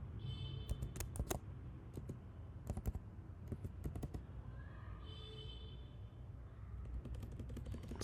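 Rapid typing on a computer keyboard while entering login credentials, with clusters of close, crisp key clicks in uneven bursts and short pauses between them, at quiet indoor level.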